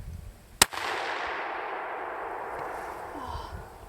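A Winchester Model 94 lever-action .30-30 rifle fires a single sharp, loud shot at a moose outdoors during a hunt, and the report rings out and fades into the open air.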